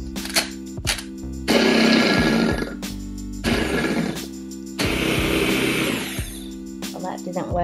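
A Bear-brand electric hand blender whirs in several bursts of a few seconds each, with clunks and brief pauses between runs.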